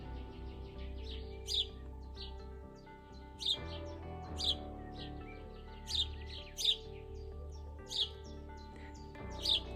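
Birds sing and chirp in a garden tree in Brittany, with bright, clustered tweets returning every second or so over a soft, continuous background of other calls; close and clear, with no talking.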